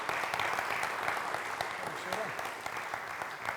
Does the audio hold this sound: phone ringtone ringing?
no